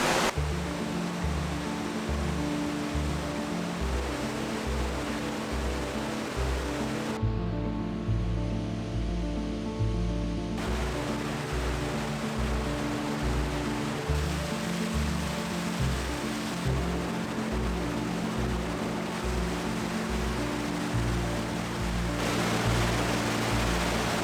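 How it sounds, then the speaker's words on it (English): A waterfall swollen after rain roars loudly and continuously, a dense, close rush of falling water that never lets up. "I want to show you what the waterfall looks like now after a bit of rain"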